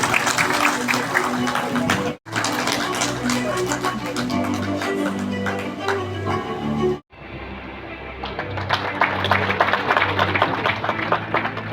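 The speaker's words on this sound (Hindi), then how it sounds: "सर्टिफिकेट लेते समय एक जबरदस्त ताली जरूर बजनी चाहिए।" An audience at a railway staff certificate ceremony breaks into sustained, dense applause, loud and continuous, with two brief gaps where the clapping resumes.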